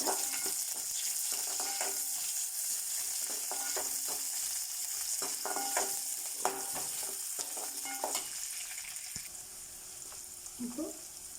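Chopped onions frying in oil in a pan for a vegetable kurma, a continuous close sizzle with repeated scraping stirs and utensil knocks throughout, faint background sounds near the end.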